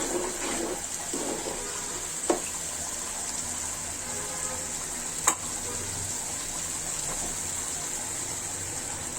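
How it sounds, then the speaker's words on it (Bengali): A spice paste for beef curry fries in a pan with a steady, close sizzling hiss that runs throughout, broken by two brief sharp knocks. "এভাবে মশলাটা ভালো করে কষিয়ে নিতে হবে"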